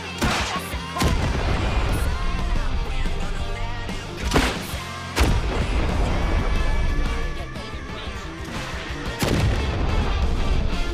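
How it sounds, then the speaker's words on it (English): Rocket launcher blasts tearing through a wall in a shooter video game, several loud booming explosions over a dense, continuous roar of gunfire and battle noise, close and heavy, with voices talking over it. "Okay, I'll just destroy the wall. We'll just stick with the rocket launcher."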